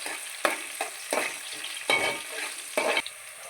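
Ginger garlic paste fries with onions and curry leaves, a close crackling sizzle broken by several loud stirring scrapes at a steady rhythm, no voices.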